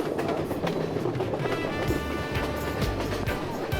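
A passenger train in Sri Lanka rolls steadily along the tracks with a rumbling drone and rhythmic clacking, loud and close throughout, with faint voices mixed into the noise.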